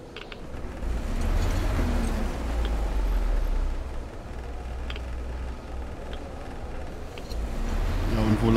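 Car driven through snowy Novosibirsk in Metro Exodus, a steady low engine rumble with road noise swelling and easing, occasional clunks and creaks over it, no talk.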